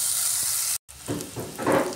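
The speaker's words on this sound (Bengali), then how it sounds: "পেঁয়াজটা একটু ভাজা ভাজা করে দিচ্ছি।" Onions frying in a pan, a bright hissing sizzle that cuts out briefly and then swells again with stirring, loud and close.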